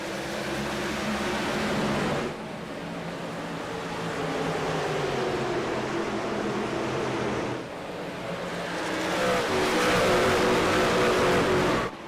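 Race trucks roar at a green-flag restart on an oval, with a dense, sustained engine drone that swells as the pack accelerates, dips briefly, then builds again to a loud, steady roar with no talk.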